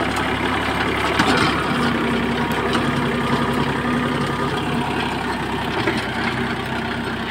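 A Mahindra Oja 2130 tractor pulling a rotavator in low first gear at about 1400 to 1500 rpm and 0.8 km/h. A steady, loud engine drone with a low hum continues close and unbroken throughout.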